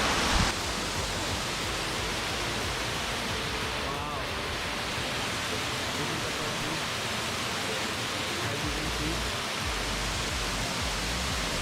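Waterfall at Cherrapunjee, Meghalaya, running with reduced flow: a steady, dense rush of falling water that holds an even level throughout, close and continuous, with no clear voices over it.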